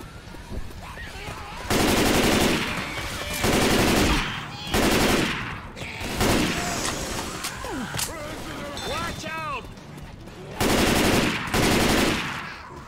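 Left 4 Dead 2 game gunfire comes in several loud bursts of rapid automatic fire, separated by short pauses. Game noises and a speaking voice fill the gaps between the bursts.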